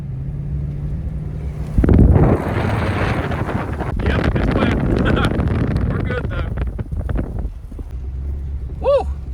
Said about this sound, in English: My next obstacle is getting across this field after 3 inches of rainfall. 4-wheel drive high, let's go.